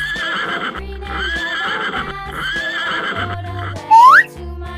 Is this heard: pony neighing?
yes